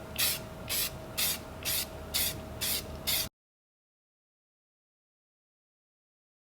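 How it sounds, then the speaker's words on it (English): A spray paint can puts a quick coat on a rifle lower in about seven short, even bursts of hiss in a steady rhythm, then goes silent. "I just sprayed another quick coat on it really quick"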